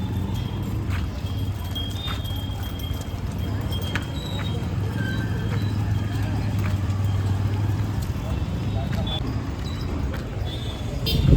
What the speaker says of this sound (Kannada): ಎಮ್ಮೆಗಳು ಬರ್ಲತ್ತಾವ ನೋಡ್ರಿ.